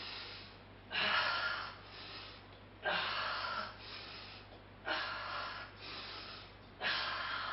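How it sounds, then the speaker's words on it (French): Slow, deliberate breathing during a health-stick exercise, four long breaths in a steady rhythm, close and clear, each one a breathy rush lasting about a second or more, no talking. "j'inspire devant. J'expire derrière, j'inspire devant"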